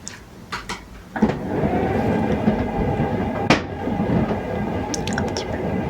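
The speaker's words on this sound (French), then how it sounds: "Je vais remonter mon volet pour avoir plus de luminosité." A roller shutter is raised indoors in a quiet room, a sustained rattling, rolling drone lasting several seconds after a few soft knocks, with a sharp clack partway through, close and moderately loud.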